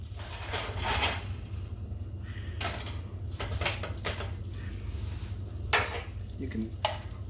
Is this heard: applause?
no